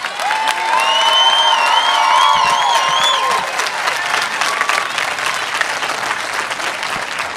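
Loud crowd applause and cheering at a campus political debate event, dense clapping with whoops and shouted voices rising above it, sustained throughout.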